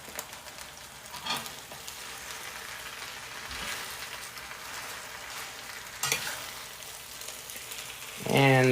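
Spinach stir fry with hash sizzling steadily in a hot cast iron wok, a continuous close crackle with a couple of louder stirring bursts and a scraping flare at the end.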